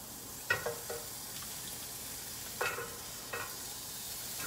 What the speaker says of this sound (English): We're going to throw that onion in the pan.